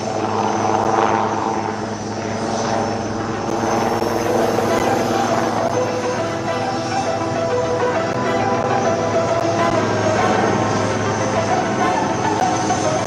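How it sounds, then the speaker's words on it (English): HAL Prachand light combat helicopter manoeuvring over a runway at an air show, its loud rotor and turbine drone steady and close throughout, with a faint voice in the background. "light combat helicopter Prachand, right in front of you"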